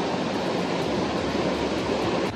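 Flowing water near the Tahquitz Canyon waterfall in the Palm Springs desert of California rushes in a constant, loud, even roar that fills the whole moment without pause or voices.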